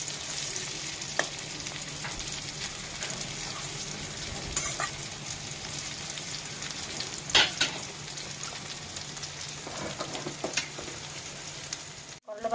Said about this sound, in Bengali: করলা ভাজা এই যে ভালো করে হয়ে গেছে, একটু কড়া কড়া ভাজা দিয়েছি